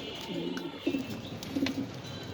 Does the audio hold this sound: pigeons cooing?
yes